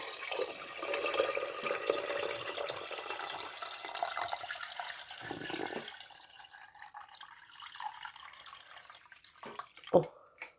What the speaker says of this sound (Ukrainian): Виливаємо водичка, звичайно, з криниці відстояна. Заливаємо